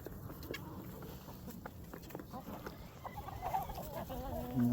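Swedish flower hen and other backyard chickens cluck softly on a farm in winter, with scattered close clucks and murmurs rising a little toward the end over a quiet outdoor background.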